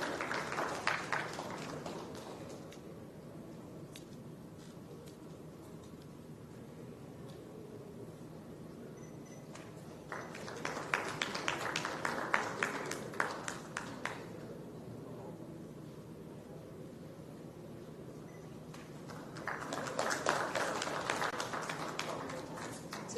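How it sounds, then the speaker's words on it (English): Audience applause at a South Indian media summit panel session, bursts of clapping rising around ten and twenty seconds amid a steady hall murmur, moderately loud with quieter gaps between. "Let's hear a round of applause, ladies and gentlemen"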